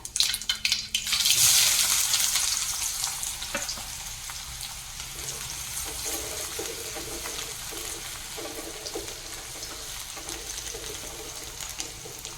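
Mustard seeds, cumin and finely chopped onion fry in hot oil: a loud crackling burst at first, then a steady close sizzle that continues without a break.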